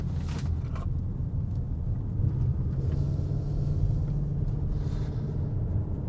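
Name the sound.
car engine and road noise while driving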